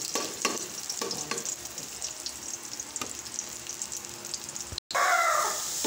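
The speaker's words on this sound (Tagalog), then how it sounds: "ginigisa na natin ating chicken na sahog kasama ng ating sibuyas at bawang." Shredded chicken sautéed with onion and garlic for pancit bihon, a steady close sizzle with scraping stir strokes and a brief dropout near the end, no talk.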